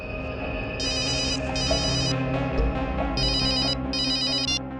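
A telephone rings in bursts of electronic trills, two quick rings, a pause, then two more. The rings are loud and close, over a steady background hum and music bed, with no talk.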